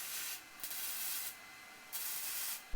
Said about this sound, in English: let's get this top welded on here